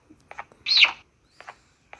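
A bird creature in the video game Garten of Banban 4 makes a short, sharp squawk. Faint chirpy calls come just before and after it, quiet and isolated.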